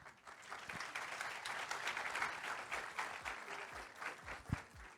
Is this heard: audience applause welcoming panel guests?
yes